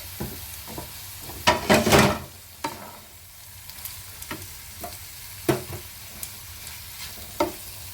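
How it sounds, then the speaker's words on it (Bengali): Mustard paste being stirred into drumstick stalks frying in a pan: a dense burst of scraping and stirring near the start, then scattered spoon scrapes and clinks over a low, quiet sizzle, with no voices. "চলো ভালোভাবে সর্ষে পেস্টটা মিশিয়ে আবার তোমাদের কাছে আসছি।"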